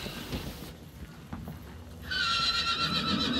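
A horse whinnies loudly in the game Hunt: Showdown, a bright rising neigh near the end, with faint hoof clatter and background noise before it.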